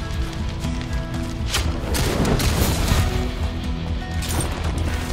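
Gunshots in Soulslinger: Envoy of Death, a 2023 cowboy game, with a few sharp booming shots standing out over a dense, loud backdrop of game noise.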